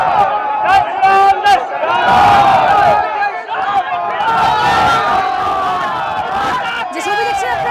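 Crowd at a BJP protest march in Bardhaman led by the opposition leader, a loud massed chorus of shouting and chanting voices rising and falling steadily close by.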